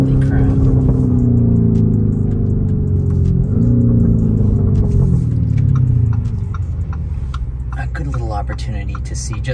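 A 2021 Lamborghini Urus accelerating hard, its engine a loud, close, deep rumbling roar that climbs through the gears with a brief shift dip, then eases off toward the end, with people talking over it inside the cabin.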